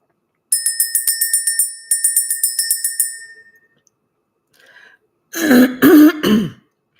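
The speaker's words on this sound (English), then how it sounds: "Let's ring the bell." A bright bell rings in two quick runs of rapid strikes, fading out, followed after a pause by a short burst of throat-clearing.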